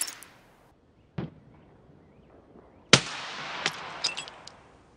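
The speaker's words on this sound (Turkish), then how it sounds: "Ve tek bir atışta onu da vuruyorum." A sharp, loud sniper rifle crack rings out in Escape From Tarkov after an earlier, quieter report, followed by clattering, scattered impact and reload sounds, with no talking.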